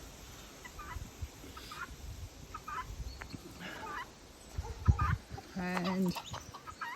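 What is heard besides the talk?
chickens clucking in coop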